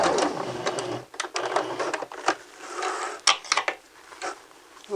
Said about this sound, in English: you're going to back stitch and then stitch forward all the way around until you meet this stitch again.